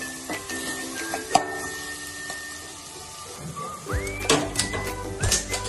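Coconut masala fries in oil in a home kitchen pan with a steady low sizzle, while a spoon or utensil scrapes and clinks against the pan and a few sharper metallic knocks ring out.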